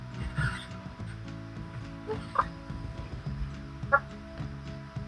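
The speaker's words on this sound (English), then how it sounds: "Hey chickens!" Chickens in a new coop, low soft clucks and murmurs repeating close by, with a couple of sharper calls standing out.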